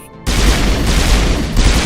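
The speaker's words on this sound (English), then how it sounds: "Oh, it's a triple shot pistol." Triple shot pistol in Mass Effect firing, a sudden loud burst after a quiet moment, followed by a sustained rumbling blast with another surge near the end.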